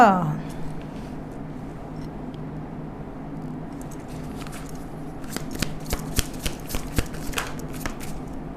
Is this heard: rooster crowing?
no